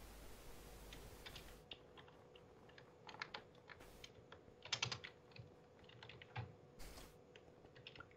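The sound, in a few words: typing a chat message on a computer keyboard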